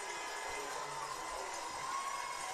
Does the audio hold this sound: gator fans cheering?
yes